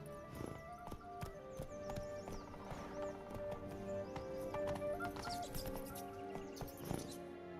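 Roach, the horse in The Witcher, trots along with rhythmic clip-clopping hooves, moderately near and fairly quiet, mixed with soft game music and scattered ambient taps.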